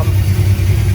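A Chevrolet C10 square body truck with a carbureted LS swap and a new Holley fuel regulator idles while warming up, a loud, steady low engine rumble heard close and alone for a brief moment.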